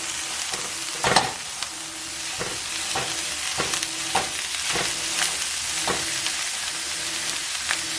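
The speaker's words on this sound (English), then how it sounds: "you are going to cook your ground beef, and you want to cook it till it's well done, no longer pink" Ground beef fries in a pan with a steady, dense sizzle, broken by regular scraping strokes of a spatula stirring the meat.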